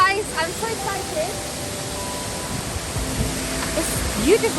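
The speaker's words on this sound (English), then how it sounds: "Finally, we made it to the waterfall," Steady broadband rush of Stock Gill waterfall near Ambleside in the Lake District, a constant roar filling the scene while people talk over it.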